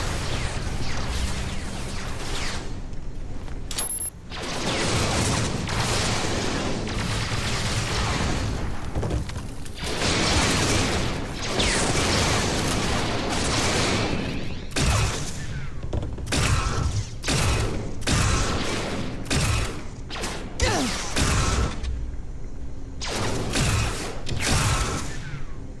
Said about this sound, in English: Wow, that's a lot of shots.